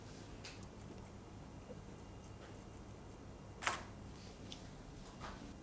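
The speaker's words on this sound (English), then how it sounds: "I'll take a test shot and then we'll see." A single-lens reflex camera shutter fires once for a test shot in a small home photo studio, a crisp, sharp click standing alone over quiet room tone, with a couple of faint ticks elsewhere.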